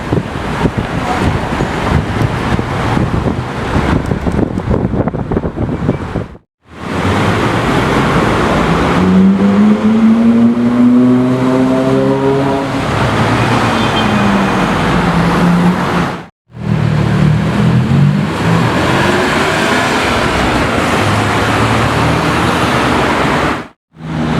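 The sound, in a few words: GT3 RS car with Y-Soft package driving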